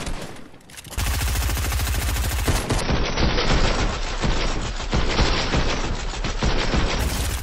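Rapid enemy gunfire in Fortnite, a loud sustained burst of automatic shots rattling continuously for several seconds after a brief quiet start.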